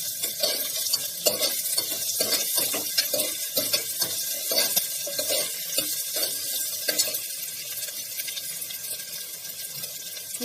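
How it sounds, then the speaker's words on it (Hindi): Green chillies and onions stirred and fried in a pan while cooking chicken mince, with steady sizzling and repeated scraping stir strokes throughout, close and fairly loud, no talking. "ये अब डाल रहे हैं हम इसमें हरी मिर्च, ट्रांसलूसेंट हो गई हैं प्याज।"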